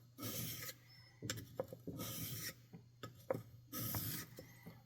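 A Mora 106 Scandi-ground knife is drawn across a whetstone in repeated rhythmic strokes, each a gritty, raspy scrape of steel on stone, close and fairly quiet with brief pauses between passes.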